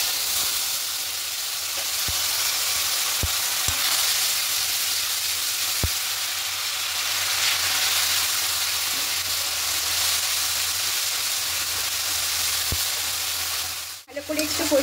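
Tomato paste sizzling in a pan of hot oil with whole cumin and spices, a loud, steady frying hiss close up with occasional faint clinks, and no speech.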